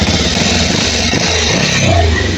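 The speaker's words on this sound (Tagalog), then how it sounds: "So andar na naman siya. Ayan, andarin natin." A Rouser 180 motorcycle engine runs steadily after repair of a locked connecting rod, a loud close-up putter with a slight rev rise near the end and no talking.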